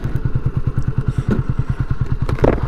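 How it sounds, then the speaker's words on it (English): A Honda CB250RS motorcycle idles close by, its engine thumping in a steady, even rhythm with light mechanical clatter on top and no voices. "Look at that idle."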